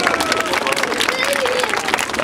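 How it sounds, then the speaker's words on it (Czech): A crowd applauds a paratrooper at an army display for children, with steady clapping throughout mixed with lively crowd babble. "A my ho samozřejmě přivítáme Jadinákem s potleskem."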